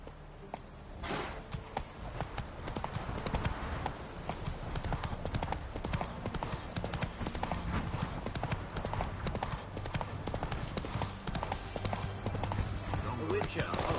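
Roach, the horse in The Witcher 3 video game, gallops with steady, loud hoof clip-clop that runs unbroken throughout, with speech over it.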